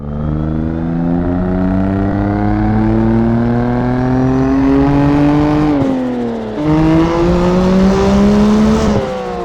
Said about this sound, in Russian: на ней просто мега крутой звук мотора и выхлопа